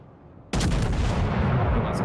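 Naval gunfire in World of Warships as a warship opens up on enemy battleships, a sudden loud broadband blast that sustains as a rumbling roar for over a second.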